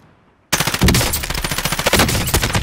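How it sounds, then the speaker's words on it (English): Rapid automatic gunfire from a PS4 first-person shooter match, a sustained loud burst of close shots that cuts in abruptly after a moment of near silence and rattles on steadily to the end. "They're shooting at me"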